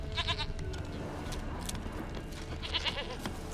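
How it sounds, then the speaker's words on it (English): A goat in The Witcher 3 bleats in two quavering bursts, one at the start and one near the end, with faint game ambience beneath. "Here, goat."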